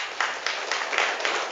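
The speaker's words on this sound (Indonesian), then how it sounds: "Tepuk tangan buat anak-anak kita semua." An audience at an Islamic sermon gathering claps for the children, a dense steady patter of many hands at moderate distance.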